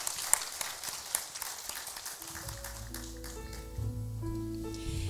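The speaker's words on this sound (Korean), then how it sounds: "박수 올려드립니다." A church congregation claps for about two seconds, the clapping fading quickly as soft sustained keyboard or organ notes take over.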